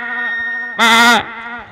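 A voice imitates a goat's bleat at a mushaira poetry gathering: a humming tone breaks into one loud, wavering bleat, then settles back to the hum.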